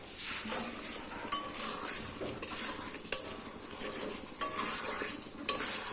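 Fish fries in a pan on a gas stove with a steady sizzle, while a utensil stirs and clinks against the pan in a few sharp knocks.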